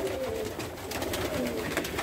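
Fancy pigeons in a loft cooing, several soft, repeated low coos close by over a busy background of other birds, with no talk.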